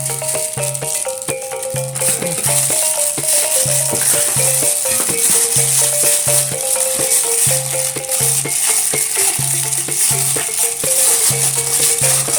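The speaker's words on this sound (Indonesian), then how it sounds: "Kita aduk sampai merata." Donut dough with margarine being stirred in a bowl, a steady scraping, rattling churn that runs continuously and loudly over repeating background music.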